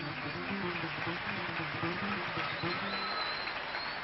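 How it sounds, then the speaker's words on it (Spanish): Audience applause for Emanuel, a contestant in a sapucay shouting contest, steady and moderately faint across the whole stretch, with a murmur of voices mixed in. "Aplausos para Emanuel."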